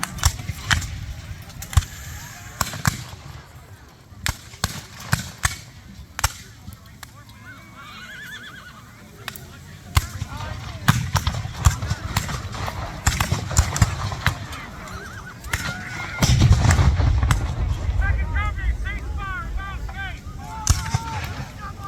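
Civil War reenactment cavalry charge at a muster in Jackson, Michigan, with horses whinnying and hooves clip-clopping amid scattered sharp bangs of pistol fire, crowd noise swelling toward the end.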